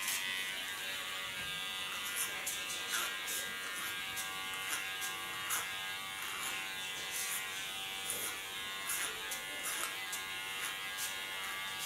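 An electric hair clipper cuts the hair at the nape, giving a steady close buzz with brief crisp snips and bursts as the blade moves through the hair along the neckline.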